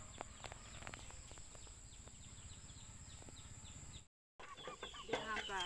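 Chickens on a Thai farm, with scattered short clucks and calls over steady insect and cricket buzz, a brief dropout, then a louder burst of calls near the end.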